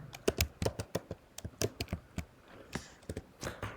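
Someone types a name into a computer keyboard, giving a quick run of close, crisp key clicks in an uneven rhythm with a brief pause midway and no talking.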